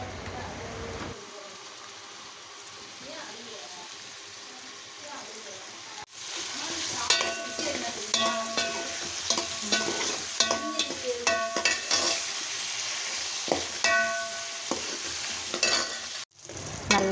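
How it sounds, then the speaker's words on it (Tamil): Onions and tomatoes sauté in hot oil for a fish curry, a continuous soft sizzle with repeated scraping stirs of a utensil in the pan, close and moderately loud. "நல்லா வதக்கி எடுத்துக்கலாம்."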